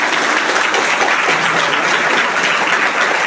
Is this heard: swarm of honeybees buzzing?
no